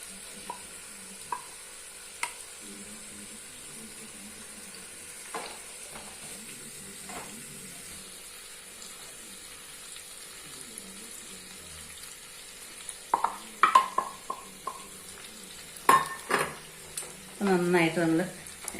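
Peri peri alfaham chicken is turned over in a hot pan, quiet at first, then bursts of sizzling and sputtering with scraping clatter near the end.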